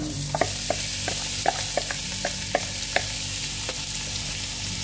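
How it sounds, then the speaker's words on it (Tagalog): Chopped onion browning in a hot pan for a home-cooked meat and greens dish, with a steady loud sizzle throughout and occasional light clinks from a stirring utensil. "ipa-brown na natin ang onion"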